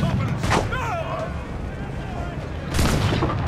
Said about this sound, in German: Wir gehen an die Kanone.